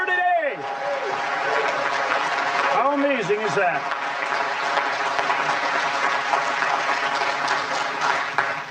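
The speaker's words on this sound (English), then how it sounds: "a round of applause for the Roosevelt family who are here today" A crowd applauds the Roosevelt family at the opening of the Theodore Roosevelt Presidential Library, the clapping running under an amplified announcer who talks over it, with a rising tonal sweep early on.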